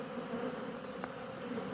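Dense, steady buzzing of many black honeybees up close at a hive, a continuous hum with a few individual insects passing nearby.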